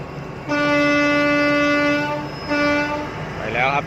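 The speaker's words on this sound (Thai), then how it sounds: "รถขบวนนี้มาจาก หนองคายกรุงเทพ" Passenger train from Nong Khai to Bangkok arriving at a station, its horn sounding loud and close in two long blasts with a short break between, over rumbling rail noise and a brief high squeal at the end.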